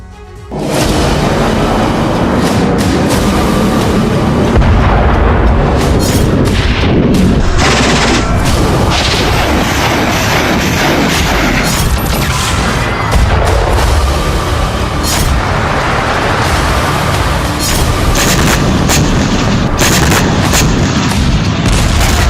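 Continuous barrage of heavy booms and rapid gunfire in the war in Ukraine, loud and dense throughout, with blasts overlapping in chaotic bursts.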